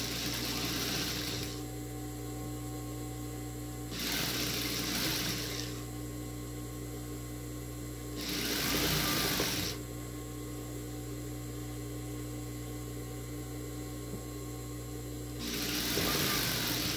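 A sewing machine stitches an apron in repeated bursts, each run of rapid mechanical whirring lasting a second or two and separated by quieter pauses, close up over a steady background hum.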